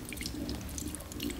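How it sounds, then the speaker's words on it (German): Potato water is poured slowly and carefully off from a container, giving a steady, soft trickling and splashing stream with small drips, close by and without any talk. "Jetzt das Kartoffelwasser langsam und vorsichtig abgießen."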